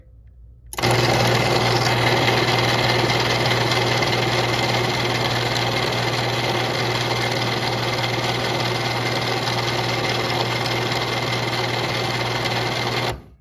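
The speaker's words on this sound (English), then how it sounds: "I guess we'll run this Moramatic one more time since it's kind of cool." A Moore-O-Matic Ultra Lift garage door opener runs with a steady, loud mechanical whir and hum that starts abruptly and holds evenly for several seconds before cutting off, with no talking.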